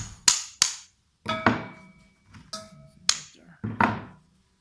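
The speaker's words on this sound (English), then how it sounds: "Just get a hammer, and then you just hit it." Sharp metallic hammer strikes knock down a metal burr on a gate and fence welding jig, ringing out one at a time, about six blows spaced unevenly, each with a short ringing decay, close and clear.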